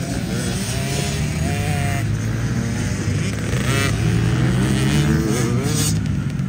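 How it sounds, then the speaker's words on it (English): A KTM 50SX petrol dirt bike rides a lap, its small two-stroke engine buzzing loud and continuous as it revs up and down through the gears, close throughout. "we're back out on the petrol bike"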